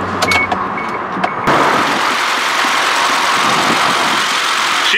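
A 2002 Isuzu Trooper engine running rough, a short whine and clicks before it fires, then a loud steady uneven idle close up.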